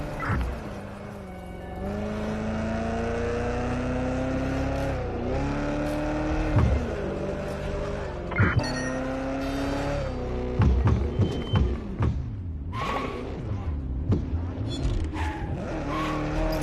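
Car driving and skidding in the video game Watch Dogs: Legion, with a steady engine drone, rising and falling revs, and repeated tire squeals and skids over a dense, loud game soundtrack.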